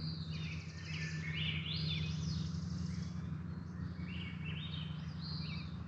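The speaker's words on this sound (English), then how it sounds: "birds chit-chatting with each other" Several birds chirp and twitter back and forth in quick, overlapping bursts over a steady low hum.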